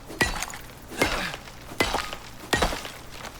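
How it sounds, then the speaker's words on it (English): Horse hooves clip-clopping in the survival video game Icarus: four sharp, evenly spaced hoof strikes, close and clear, with no talking over them. "Yeah, it's a horse, I believe."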